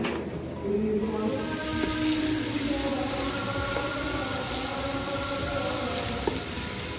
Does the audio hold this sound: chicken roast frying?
yes